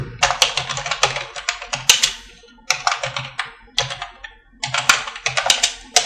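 Rapid typing on a computer keyboard comes in three close, crisp bursts of clicking keys, separated by brief pauses, with no voices.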